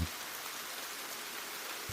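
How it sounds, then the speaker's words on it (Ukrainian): Light morning rain falls steadily on the Outer Banks, a soft, even hiss that stays faint and continuous throughout. "Наступний ранок зустрів нас дощиком."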